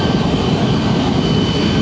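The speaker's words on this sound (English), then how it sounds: "as he powers up, we should be seeing a vertical takeoff from this position" An AV-8B Harrier II at an airshow on an airfield, jet engine spooling up for a vertical takeoff, a loud, steady roar with a broad whine that holds constant throughout.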